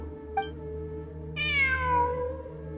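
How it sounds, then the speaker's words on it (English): A cat meows in a video game, one short faint chirp followed by a longer, louder drawn-out meow that falls in pitch, heard alone over a steady low background hum. "It really is a cat."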